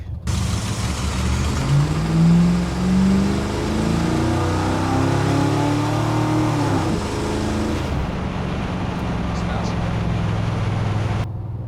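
A car engine fitted with a Thermoquad carburetor rumbles and revs up and down close by, with a rough, rattly tone from a loose, partly detached exhaust and someone talking over it at times.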